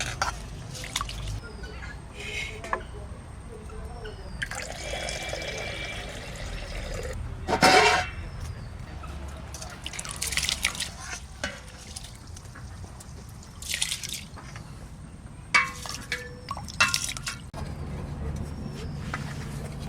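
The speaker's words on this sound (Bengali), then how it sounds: "এটা চালটা ধুয়ে দিয়ে দেবো" Rice being washed in water in a pot at an outdoor village cooking spot, with intermittent sloshing, drips and trickles alongside occasional talking and background bustle.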